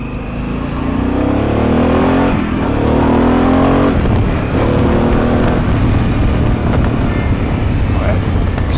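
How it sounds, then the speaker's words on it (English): A Harley-Davidson Pan America 1250 Special motorcycle accelerates hard, its engine note climbing in pitch through rising revs with a gear change partway, loud and close, with heavy wind rush buffeting the microphone throughout. "It accelerates nice and fast."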